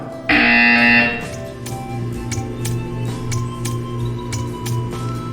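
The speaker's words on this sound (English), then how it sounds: "You will hear a buzzer." A loud, harsh electronic buzzer in the video game Portal 2 blares for about a second, followed by quieter clicks and a low hum.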